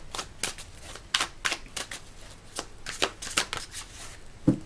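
A deck of tarot cards being shuffled by hand, a run of quick riffling flicks and soft slaps in an irregular rhythm, close and fairly quiet, with no voice.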